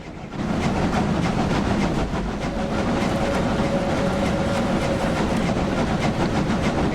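Steam locomotive on the Brockenbahn mountain railway in Train Simulator Classic, running with a steady rolling rumble and rhythmic chuffing or rail beats, a faint whistle-like tone held briefly, no voices.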